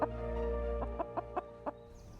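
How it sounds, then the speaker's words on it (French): Real chickens carried in a car trunk during a police stop, clucking in several short, separate bursts over a low steady hum, fairly close and alone, with no talk. "l'officier de police découvre la présence de vrais poulets"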